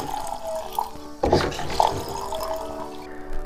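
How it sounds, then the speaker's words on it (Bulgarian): Spring water is poured over freshly washed rose hips in a container, with a splashy pour starting partway through, then running and dripping water at close range. No one talks. "Сега ги заливаме с изворна вода по възможност."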